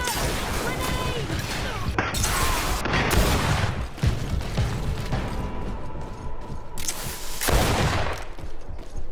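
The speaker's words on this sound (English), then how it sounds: "Watch out! Grenade!" Grenade blast and battle noise in the video game Greedfall, loud crashing bursts and impacts repeating through a dense, chaotic fight, with voices shouting underneath.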